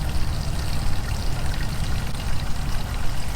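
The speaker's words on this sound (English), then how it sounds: "this is not an old well, this is a natural spring." Water from a natural spring pours and gurgles steadily at close range, a continuous broadband rush with no voices over it.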